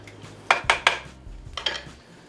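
A spoon stirs broth in a pot with bacon and garlic, clinking against the metal sides in a few sharp knocks, first a quick run of three, then a softer pair after a pause. No one speaks.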